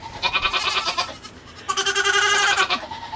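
A goat bleats twice in close succession, loud and near, with a short pause between the wavering cries and no talking.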